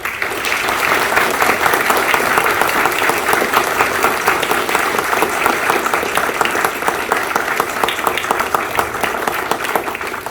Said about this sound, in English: if we could give a warm round of applause and thanks again